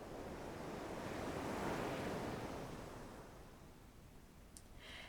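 Ocean surf washing up on a shore, a steady broad rush that swells and then eases back, heard alone with no voices over it.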